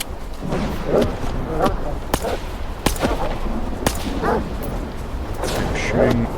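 Mutant dogs bark and yip in the shooter game STALKER 2: Heart of Chornobyl, mixed with sharp gunshot cracks and someone talking over the fight.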